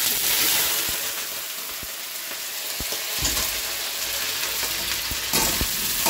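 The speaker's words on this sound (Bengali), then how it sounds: "তেলটা গরম হয়ে গেছে, দিয়ে দিয়েছি কালো জিরে, আর দিয়ে দেবো কেটে রাখা আলু" Cut potato chunks frying in hot oil with black cumin, a loud, close, steady sizzle with occasional clinks and stirring scrapes of a utensil against the pan, no talking.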